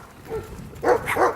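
A dog barks a few times while out on a neighborhood walk, fairly close, with two or three short harmonic barks near the end after quieter background noise.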